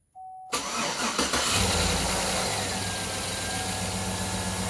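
A 2007 GMC Yukon with a misfiring cylinder cranks briefly, then its engine catches and settles into a loud, steady idle close by.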